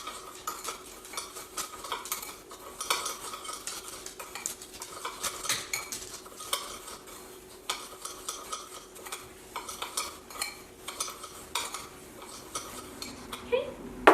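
A spoon works through a granular purple sugar scrub in a bowl, giving repeated close gritty scrapes and clinks in an uneven rhythm, with a sharper knock at the end.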